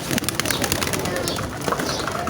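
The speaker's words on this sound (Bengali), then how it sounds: "এখানে কবুতর রয়েছে।" Pigeons cooing nearby in a yard with fish ponds, with soft repeated calls running through the clip against a busy, noisy background.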